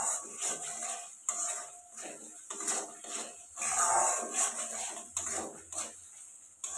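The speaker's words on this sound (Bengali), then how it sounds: "আর মশলাটা ভালোভাবে কিন্তু কষিয়ে নিতে হবে।" Spice paste for an eggplant curry is stirred and sautéed in a pan, with repeated close scraping and clinking of a spoon against metal over a light sizzle, and no talking.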